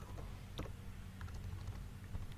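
Someone types on a computer keyboard while entering tax figures, with a quick run of soft, close key taps over a steady background hiss.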